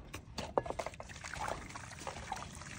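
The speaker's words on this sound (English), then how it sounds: "get about a gallon of boiling water and go ahead and pour that in" Boiling water pours steadily into a tub with splashing and gurgling, a short continuous stream filling the container.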